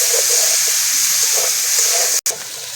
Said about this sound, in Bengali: আবারও ফুলকপি ভালো করে ভেজে নেব।